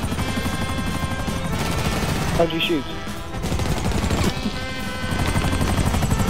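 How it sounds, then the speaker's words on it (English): Helicopter in the GTA 5 video game, a steady loud rotor drone running through the whole stretch with brief gunfire bursts, while players talk and shout over it. "I steal a helicopter."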